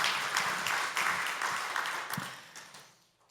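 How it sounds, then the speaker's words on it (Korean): A church congregation claps together in sustained applause that gradually fades away toward the end. "우리 박수로 우리 하나님 앞에 영광을 올려드리겠습니다."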